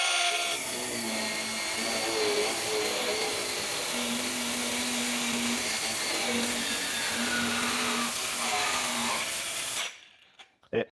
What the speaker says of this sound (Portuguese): vamos trocar o disco e cortar aqui